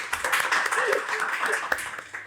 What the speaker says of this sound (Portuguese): uma salva de palmas para essa mulher